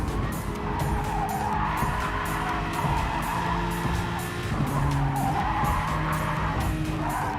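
A race car in GT Sport, running the Tokyo Expressway circuit in the FIA Manufacturer's Cup, holds a steady engine roar while tires squeal and skid through a corner, its pitch rising and falling with shifts and throttle.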